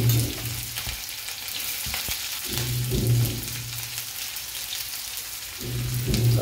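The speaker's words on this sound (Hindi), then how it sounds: "इधर हमारा तेल गरम हो चुका है, अब इसमें हम थोड़ा जीरा डालेंगे, कटा हुआ प्याज अब डाल देंगे" Cumin and chopped onion frying in hot oil for a cauliflower sabzi, a steady close sizzle with recurring pulses of stirring and a low hum underneath, with no speech.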